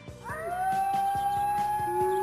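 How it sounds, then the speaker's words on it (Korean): A wolf howls in a long, rising then steady drawn-out tone that carries through the whole stretch, loud and near, with a softer second howl layered beneath and faint rhythmic knocks in the background. "언덕에 진짜 늑대가 나타난 거야."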